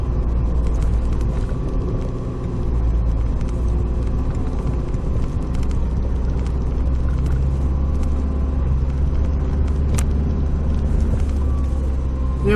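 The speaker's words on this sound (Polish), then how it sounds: "auto rusza bez problemu" Car on Michelin CrossClimate all-season tyres pulling away and driving on a snowy road, heard from inside as a steady, loud low engine and road rumble that holds for the whole stretch, with faint ticks and knocks over it.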